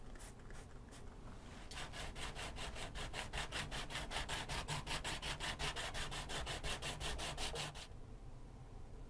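Card scraper being sharpened on diamond plates, a few separate strokes first, then a fast, regular run of rasping back-and-forth rubs for about six seconds, close and fairly quiet.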